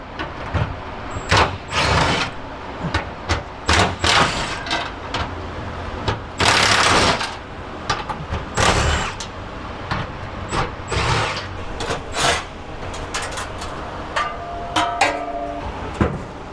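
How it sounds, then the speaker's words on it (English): Clanking metal knocks and scrapes come from removing the transmission tunnel cover inside a rusty 1962 Chevrolet C10 pickup cab, in irregular loud bursts with short pauses between them. "I'm gonna get that transmission tunnel cover off of there"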